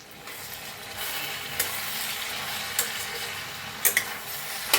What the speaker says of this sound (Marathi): मिरची टाकूया आणि भाजीला हलवून घेऊया